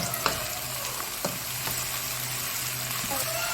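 Turnip and chard sauté in a frying pan with a steady close sizzle, broken by occasional light scrapes and clicks of a stirring utensil, with no voices.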